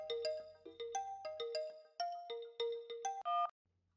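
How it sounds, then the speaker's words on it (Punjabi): A phone ringtone plays a bright, melodic electronic tune of quick repeated notes, fairly clear, then cuts off abruptly into quiet room tone. "ਇੰਨੀ ਸਵੇਰੇ ਸਵੇਰੇ ਕਿਹਦਾ ਫੋਨ ਆ ਗਿਆ?"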